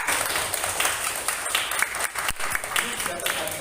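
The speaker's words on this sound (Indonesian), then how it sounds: "Tepuk tangan untuk Zakwan." A classroom of students claps for a classmate, a brief, moderately quiet burst of scattered hand claps filling the room.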